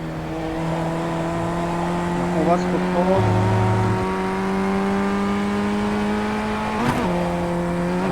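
A race car engine in the iRacing sim holds a steady, loud tone with pitch shifts and short revving blips, while someone talks over it.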